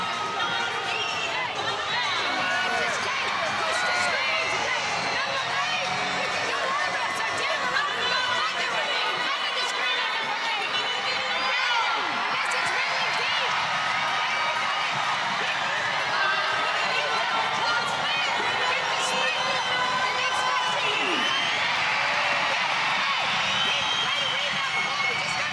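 Arena crowd at a Women's Basketball World Cup semifinal between China and Australia roars loudly and continuously during a timeout, with a commentator speaking over the din.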